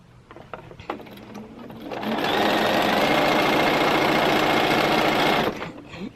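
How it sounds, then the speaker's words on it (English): A sewing machine stitches a 4-patch block for an African Shuffle quilt, starting after a few soft handling clicks and then running in one steady, fast, whirring burst for about three seconds before stopping. "So now I'm going to sew this 4-patch."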